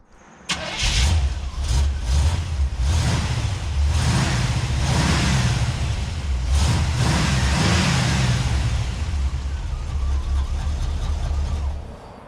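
A Chevrolet 355 V8 in a shop-truck donor car fires up and runs steadily at close range, a loud, rumbling idle with slight rev swells throughout, no talk over it.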